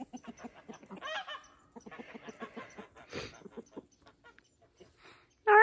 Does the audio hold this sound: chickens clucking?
yes